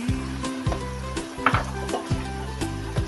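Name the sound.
potatoes added to pot for chicken tinola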